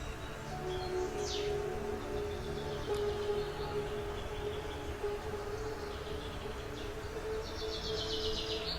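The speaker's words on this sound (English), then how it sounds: "edit the audio clip so that only the bird song can be heard" Birds chirp and whistle on and off over a steady outdoor hum, with short high trills now and then.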